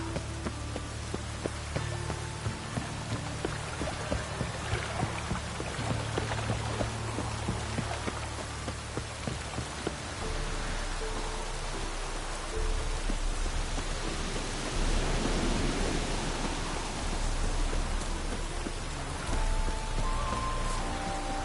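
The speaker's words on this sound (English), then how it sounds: "Looks like rain." Steady rain in The Witcher 3 pattering on surfaces, a continuous broadband hiss with scattered drops, growing slightly heavier midway.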